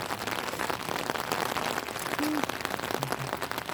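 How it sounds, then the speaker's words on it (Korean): Rain falling steadily on a lake: a dense, even hiss of drops across the whole stretch, moderately soft, with faint voices and a brief tone in the background. "이 비 내리는 호수, 아, 너무 멋있어요"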